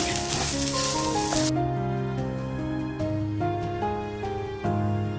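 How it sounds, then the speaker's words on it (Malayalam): Munthiri kothu sweets, a Nagercoil specialty, frying in hot oil: a bright, loud sizzle for the first moment, then fainter bubbling under steady background music. "ചുവന്ന് തീരെ മൂപ്പിക്കണ്ട അന്ന് ചുവപ്പിച്ച് വറുത്ത് എടുത്താൽ മതി"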